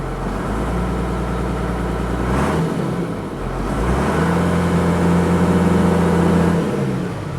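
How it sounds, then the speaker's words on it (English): First-generation Cummins diesel truck engine heard from inside the cab, idling steadily and then revving up in a swell of engine noise, with no talk. "Let me rev it up a bit, see if it goes up or down or what happens here"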